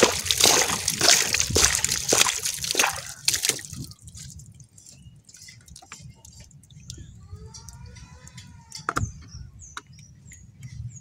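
Excess water poured out of a hydroponic pot for transplanting Chinese cabbage, a loud splashing pour for a few seconds, then sparse drips and small trickles in a quiet room.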